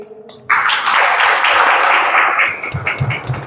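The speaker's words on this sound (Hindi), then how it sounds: "अपने आप के लिए तालियां बजाइए" A church congregation at Sadhna Sadan in Chianki, Daltonganj, starts clapping all at once after a brief pause, a bright, crowded patter that fades slightly toward the end.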